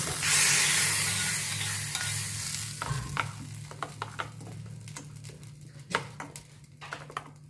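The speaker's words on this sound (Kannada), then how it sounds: "ಇವಾಗ ಒಂದು ಗಮ್ಮತ್ತಾಗಿರೋ ಒಗ್ಗರಣೆ ಕೊಡ್ತಾ ಇದ್ದೀನಿ. ಸಾಸಿವೆ, ಎಣ್ಣೆ, ಕರಿಬೇವು, ಒಂದು ಒಣಮೆಣಸು ಹಾಕಿರೋದು" Mustard seeds, curry leaves and a dry red chilli drop into hot oil for a chutney tempering: a loud burst of sizzling hiss that eases off into scattered sharp crackles and pops.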